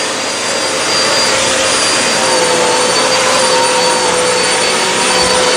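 Hoover High Capacity vacuum cleaner running on a filthy carpet, a loud, steady high-pitched whine with airy suction roar, close and constant throughout, with no talk.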